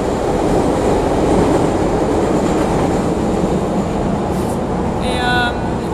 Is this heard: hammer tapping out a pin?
no